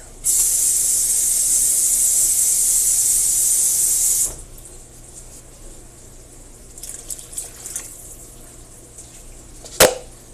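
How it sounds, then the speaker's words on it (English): Water poured into a hot pan of pork chops gives a loud, steady sizzling hiss for about four seconds, then cuts off, leaving a quiet simmer with a few faint clinks and one sharp knock near the end. "And I'm going to go with a bit more water."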